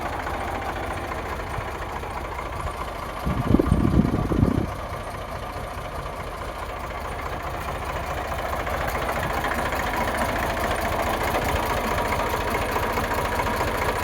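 A 2015 Eicher 368 farm tractor idles with a steady low engine drone throughout, briefly overlaid by a louder low thump or knock around the middle, with no talking.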